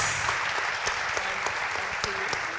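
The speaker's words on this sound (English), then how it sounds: "A round of applause for our audience." Audience at a literary festival session applauding, a steady dense wash of clapping with a few sharper individual claps standing out, moderately loud throughout.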